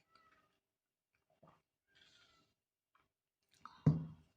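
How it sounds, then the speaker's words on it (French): House cat meowing indoors, a few faint scattered chirps and mews followed by one louder, closer meow near the end, with quiet stretches in between. "Vous allez entendre un chat miauler."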